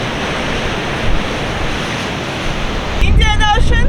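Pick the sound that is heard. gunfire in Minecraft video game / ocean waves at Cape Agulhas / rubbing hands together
ocean waves at Cape Agulhas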